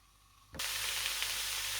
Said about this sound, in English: Cabbage and zucchini is sizzling.